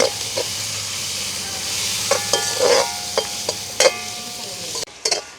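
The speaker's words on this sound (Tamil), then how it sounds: "வெங்காயம் பச்சை மிளகாய் வதங்கிட்டது" Onion and green chilli sautéing in a pan, an even hiss of frying with intermittent scrapes and knocks of a spatula against the metal, close and moderately loud, with a sharp clatter near the end.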